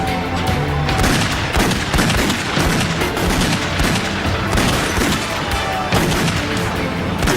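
Dense gunfire barrage from a police shootout in a cemetery in Houston County, Georgia, with loud overlapping shots and booms sustained throughout, close and intense.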